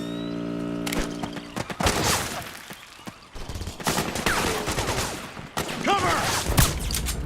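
Gunfire from the video game Metal Gear Solid 4 crackles in dense, rapid bursts like a machine-gun fusillade, loud and near, with brief pauses between volleys and a few chirping game effects.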